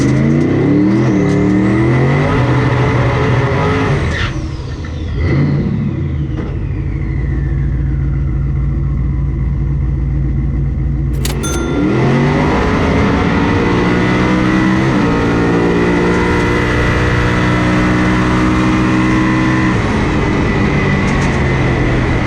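A Toyota 1UZ V8-powered drag race car accelerates hard at a New Zealand drag meet, its loud engine note sweeping up through the gears in rising howls, with a short break before it climbs again, heard alone without talk.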